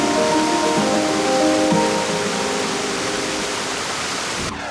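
Waterfall at Plitvice Lakes in Croatia, running low in the dry season, gives a steady broadband rush of falling water with no talk over it. The roar stays fairly constant and cuts off abruptly at the end.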